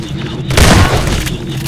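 A single loud, close rocket blast in Half-Life 2 Deathmatch, a sudden booming burst that rumbles briefly over the game's background noise.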